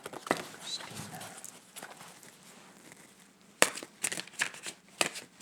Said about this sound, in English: I'm sorry if I'm shuffling too loud.